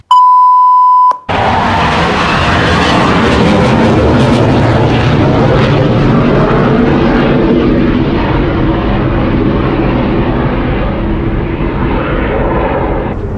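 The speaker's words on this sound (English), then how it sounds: "Until a really noisy aeroplane goes by." A short electronic beep, then a very loud F-16 fighter jet roars overhead, a sustained powerful rush that slowly fades, in Estonia.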